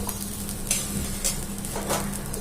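An aloo paratha fries in oil on a pan, a close, steady sizzle with a few brief scraping and spatula sounds layered over it, continuous throughout with no voices.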